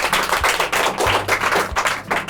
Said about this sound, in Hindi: एक बार सभी बच्चे जोरदार तालियां।